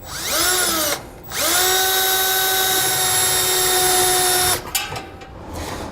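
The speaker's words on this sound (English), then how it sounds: "We want to get our hole started from down here first." A power drill with a long bit whines loudly at high speed in two long bursts under a truck bed, spinning up and down with a short pause between, then winding down at the end.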